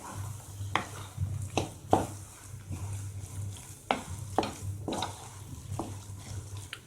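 Semolina kachori stuffing being mixed with lemon in a pan, heard as a steady close sizzle with repeated scraping and clinks of the spoon against the pan.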